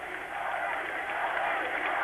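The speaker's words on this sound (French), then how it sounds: "vous imaginez les applaudissements qui saluent la sortie d'Hagi, héros national ici en Roumanie" Stadium crowd applauding a national hero leaving the pitch at a Romania versus Belgium World Cup qualifier in Romania: a steady, even roar of distant clapping with no distinct individual claps.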